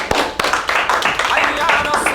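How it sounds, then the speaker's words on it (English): A gathering on a religious holy day breaks into loud, dense applause. Many hands clap close together, with voices heard over the clapping. "Round of applause."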